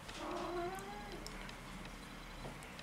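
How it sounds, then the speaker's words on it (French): A domestic cat gives a drawn-out, wavering meow indoors, moderately close but fairly quiet, over a low background hum with a few faint clicks afterward. "Viens, Minou."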